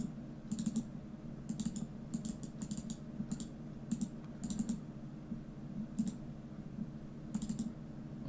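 Computer mouse clicking during work in Ableton Live music software: light, crisp clicks in small clusters and pairs, repeated at irregular intervals over a steady low hum, near and fairly faint.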